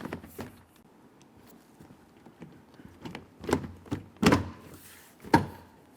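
Plastic push clips on a 2011-2020 Toyota Sienna interior door panel being pressed into the car door, heard as a handful of sharp, close thunks and snaps spaced irregularly over a quiet background.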